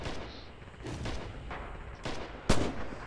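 Gunfire in the World War II shooter Red Orchestra 2, Territory mode on the snowy Winterwald map: scattered shots pop over a rumbling battlefield, ending in one loud, sharp close-range gunshot.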